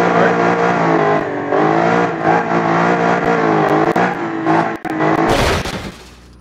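Big-engined drag truck in the BeamNG driving game launches and accelerates, a loud continuous engine roar climbing through revs, briefly dropping out, then ending in a harsh burst of noise as it cuts off.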